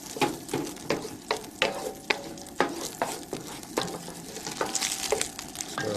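Smoked, cured ham fat sizzles in a very hot pan, crackling steadily with repeated sharp scraping stirs at a regular pace, close and fairly quiet.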